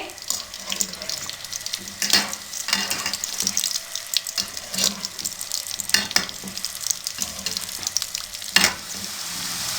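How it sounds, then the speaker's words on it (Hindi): Potato pieces half-frying in oil over a medium flame, a dense bubbling sizzle with recurring sharper crackles and occasional clinks, no talk. "आलूओं को मीडियम फ्लेम पे 3 मिनट के लिए हाफ फ्राई करेंगे।"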